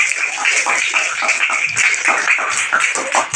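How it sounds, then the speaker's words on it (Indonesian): A classroom group claps steadily in dense, lively applause for a few seconds, close by and fairly loud. "tepuk tangan dulu untuk Afir."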